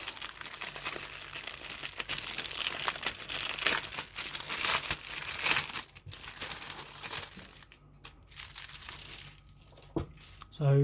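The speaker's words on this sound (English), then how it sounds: "I'm going to take the sprues from the top of the bag in no particular order." Plastic bag crinkling and rustling while sprues from a Rye Field 1/35 British Sherman VC Firefly model kit are pulled out, close and continuous with sharper crackles, fading into quieter handling near the end.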